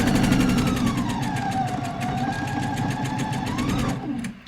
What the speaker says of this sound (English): I'm back stitching at the beginning, and I'm back stitching at the end to lock my seam.